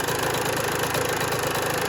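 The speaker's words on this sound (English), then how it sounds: "This comes right up and then comes back down and then idles really good." A two-stroke dirt bike engine idles steadily after an air screw and idle screw adjustment, a close, loud, even buzzing putter with no change in revs throughout.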